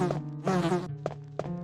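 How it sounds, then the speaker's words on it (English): Bees in the Resident Evil PS1 game, buzzing in bursts: a long harmonic drone, then short sharp repeated buzzes close by, clean with no talk. "Oh my god, the bees are fast!"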